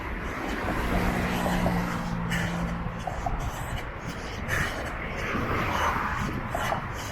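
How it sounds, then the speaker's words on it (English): Morning work traffic on a circle road in Budapest, a continuous moderate wash of passing cars heard from nearby, with the roar rising and falling as vehicles go by. "Morning work traffic has started up now."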